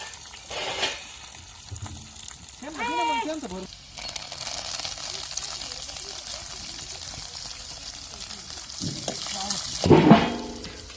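Garlic and chillies sizzle in hot oil for a kadhi tempering over a wood-fired chulha, a steady crackle with occasional stirring and pouring sounds while voices talk over it.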